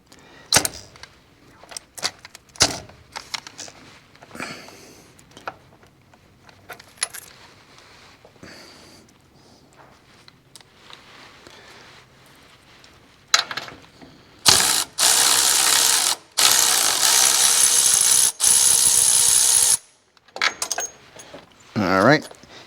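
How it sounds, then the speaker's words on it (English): A hand ratchet removes front brake bolts on a 2024 Ford F150 4x4 with a 5.0 engine. Close, loud clicking comes in irregular bursts with short pauses, and a long, intense stretch of rapid ratcheting sits in the middle. Metallic clinks of tools and parts are scattered throughout. "we're going to remove these bolts."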